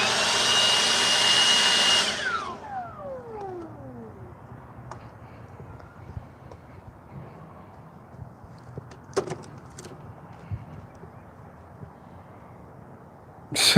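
A small blower whirs loudly for a couple of seconds, then its whine drops as it spins down, leaving quiet room tone and a few faint clicks.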